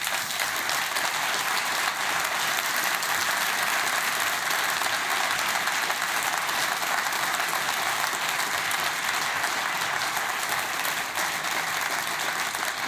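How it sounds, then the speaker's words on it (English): Sustained, loud, dense applause fills the hall at the closing ceremony of the St Gallen Symposium, an even roar of many hands clapping without pause for the full stretch. "I think that deserves another round of applause."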